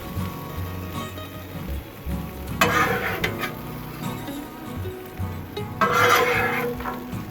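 Peppers and onions sizzling on a Blackstone griddle, a steady close hiss with two louder bursts of scraping and stirring.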